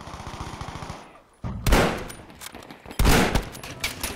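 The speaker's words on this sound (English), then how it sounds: "Oh gosh, I'm getting shot through the window." Gunfire in a video game on the Marita map, rounds striking through a window: two loud, close bursts of shots with sharp onsets, each followed by rattling decay, after a quieter stretch of low rhythmic engine-like pulsing.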